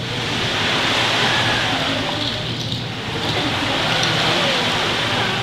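Ocean waves imitated on instruments during an end-of-session music class performance: a loud, steady rushing wash that dips briefly midway before swelling again, with no talking.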